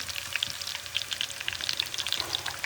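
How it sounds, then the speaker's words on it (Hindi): Green chilies frying in a pan, a steady close crackling sizzle with bright popping spatters throughout, no voices. "इसी पैन के अंदर फिर मैं ये मिर्च फ्राई करूँगी"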